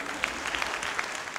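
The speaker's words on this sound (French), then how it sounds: "Applaudissements aussi pour Mark Silver, Johnson Lowe et Alfred Alexandr" Brief, faint applause from an audience at a film event, scattered claps heard at a distance.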